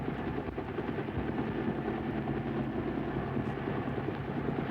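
A Vietnam-era helicopter gunship on a Mekong Delta river patrol drones with a continuous, fairly distant rotor and engine rumble, steady and unbroken throughout with no voices.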